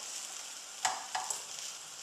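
A crepe cooks in a pan on its second side, giving a steady, quiet sizzle with a few brief louder crackles or scrapes.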